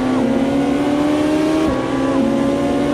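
Race car engine from Automobilista 2, a sustained loud drone with rising and falling pitch as the car accelerates and shifts, one clear gear change midway, running continuously without talk.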